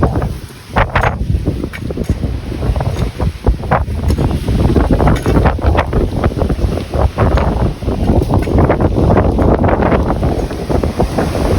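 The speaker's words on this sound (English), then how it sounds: "A bit windy today." Strong wind buffets the microphone outdoors in a monsoon-hit garden, a continuous loud roaring rush with gusty surges throughout, no voices.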